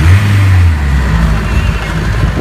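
A 4x4 turbocharged Skoda Fabia roars steadily under hard acceleration at a tuning-party sprint on an airfield, its loud engine drone close and continuous throughout.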